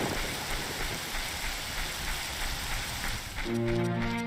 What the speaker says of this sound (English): One rain cloud directly on the village and nowhere else.